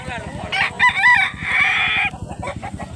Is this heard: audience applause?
no